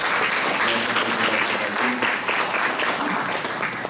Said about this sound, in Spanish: harán un aplauso por favor para Rosita